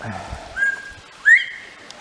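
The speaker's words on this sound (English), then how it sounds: "the old Tennessee Reds whistling." A Tennessee Red quail's clear whistled call, a short flat note followed by a rising one, close by against quiet background.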